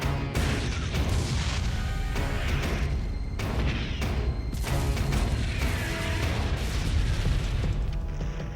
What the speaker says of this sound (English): a force tens of thousands of men strong approaches the Norman coast and unleashes a massive naval bombardment